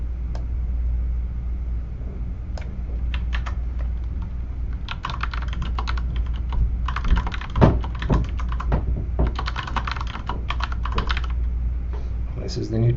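Typing on a computer keyboard: bursts of close, quick key clicks and taps that start sparse and grow denser, with a low background hum.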